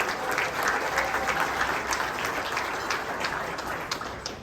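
Audience applause at the AVCA All-America volleyball reception for honorable mention honorees, a steady, sustained wash of clapping from a large indoor crowd, even and moderately loud throughout.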